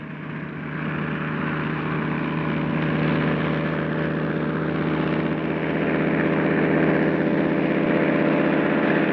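A seaplane's propeller engine drones steadily and grows gradually louder as it takes off, a continuous throbbing roar with no voices.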